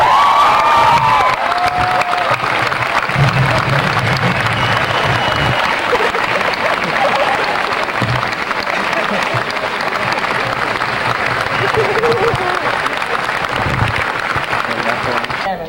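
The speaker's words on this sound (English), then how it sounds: "join me in applauding them for their unfailing love and support" A large graduation audience at Denison in 1994 applauds parents and families, with sustained dense clapping mixed with cheers, whoops and crowd noise filling the hall throughout.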